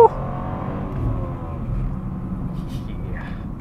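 BMW M2 G87 with manual gearbox pulling in second gear, a close, loud engine drone that swells gently as it accelerates, with faint cabin sounds and no clear talk.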